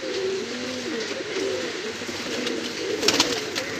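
Rampuri and Saharanpuri pigeons coo close by in low, throaty, repeated phrases, with a brief flutter or scrape near the end.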